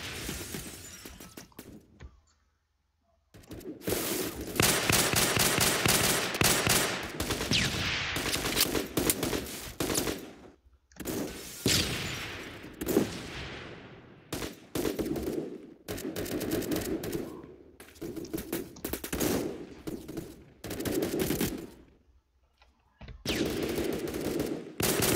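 Rapid automatic gunfire from the Phantom Forces shooter game crackles in dense bursts, with short silent gaps between the sprays of shots.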